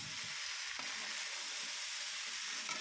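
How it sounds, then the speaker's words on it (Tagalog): Adobo stirred in a frying pan, a loud continuous hiss of frying with occasional scrape of the spatula, no voices over it. "So haluin lang natin yan guys."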